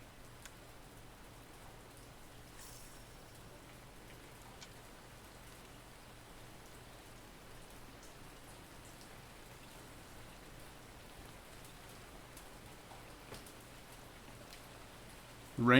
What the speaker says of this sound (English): Rain sounds good.